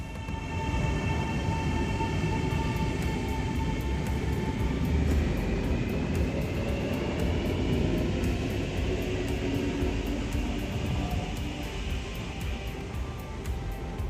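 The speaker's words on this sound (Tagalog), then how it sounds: "Kumuha ng tiket, bumaba sa plataporma at sumakay ng tren pabalik sa sentro ng" Riding the Arlanda Express airport train between Arlanda Airport and central Stockholm, a steady loud rumble and rolling hum fill the carriage, with faint rhythmic rail clicks and a sustained whine.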